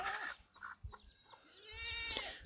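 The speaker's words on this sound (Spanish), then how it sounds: "Miren los chivitos." Goats bleat a few times, quiet and somewhat distant, with faint farmyard background noise.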